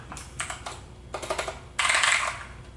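Keys clatter on a Turbot waterproof RGB keyboard with a stuck U key, in short bursts of quick, close typing ending in a louder flurry.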